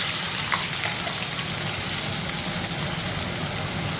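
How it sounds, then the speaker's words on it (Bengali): Chopped onions fry in hot oil after a tempering of cloves, cardamom and curry leaves, making a continuous dense sizzle at moderate volume with no one speaking. "পেঁয়াজটাকে আমি প্রথমে ভাজা ভাজা করে নেব"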